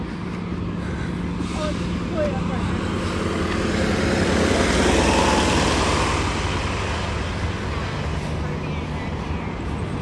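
A Disney World Boardwalk bus passes by, its engine rumble swelling to a peak midway and then fading, with traffic noise and people talking over it.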